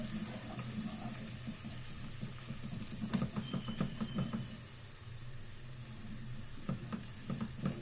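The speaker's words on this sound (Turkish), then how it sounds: "Bunları bir kavurayım ben." Chicken sautéed with tomato paste in a pan, a low steady sizzle with bursts of stirring clatter and spoon scrapes, fairly faint and close, no talking.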